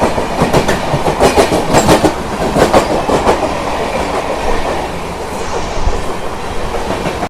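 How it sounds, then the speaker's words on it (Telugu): A train rolls through a junction station, loud and close, with a rapid clickety-clack of wheels over rail joints that fades slightly toward the end under a constant rumble. "ట్రైన్ వస్తుంది, ఏ ట్రైన్ చూద్దాం ఇది."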